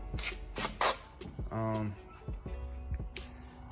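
Three quick hissing bursts of cleaner from a spray bottle into a car engine bay, close up, followed by someone speaking over faint background clatter.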